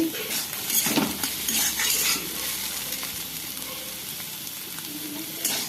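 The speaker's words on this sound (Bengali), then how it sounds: "পোলাও বানাচ্ছি" Pulao being stirred in a pan on a home stove, a steady soft sizzle with intermittent scraping and clinking of a utensil against the pan, close and alone without talk.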